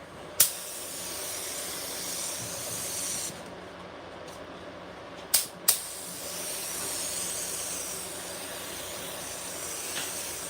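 A paint spray gun lays down a medium coat for old-school candy and lace ribbon patterns, a steady, moderate hiss broken by a few sharp bursts where the trigger catches, with no talking.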